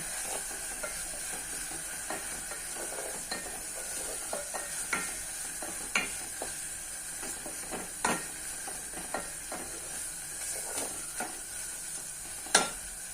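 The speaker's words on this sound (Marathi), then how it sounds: "मस्तपैकी परतून घ्यायची डाळ." Moth bean dal with red chilli powder is sautéed in a hot pan: a constant soft sizzle runs underneath while a spoon scrapes and taps the pan in irregular strokes, one louder clack near the end.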